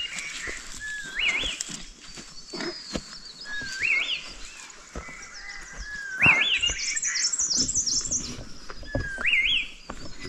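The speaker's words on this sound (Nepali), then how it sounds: "चराहरू कराउँदैछ उही उही उही गर्दै।" Birds chirp repeatedly along a walking route, bright rising calls coming in short bursts every second or two, fairly close and clear over quiet background, with no talking.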